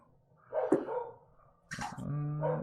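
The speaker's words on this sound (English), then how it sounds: "that's the dog going off in the background." A dog barks in the background of a home setting, two separate bursts of barking and yipping at moderate distance, with no talking over them.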